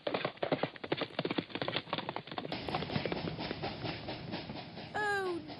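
A galloping horse sound effect in a radio cartoon plays as quick, rhythmic hoofbeats that fade into a steady rumble, followed by a short rising whistle-like tone.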